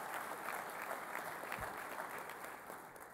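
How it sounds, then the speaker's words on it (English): A room full of mayors and business leaders at a plenary breakfast gives a steady round of applause, a dense, even wash of clapping that holds throughout with no pauses. "About a round of applause for Kevin Johnson for his commitment"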